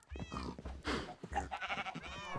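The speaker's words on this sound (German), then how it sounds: "Und Schafe." Sheep bleat in a video game, a quick run of several wavering, nasal calls close up and fairly faint, following one another with little pause.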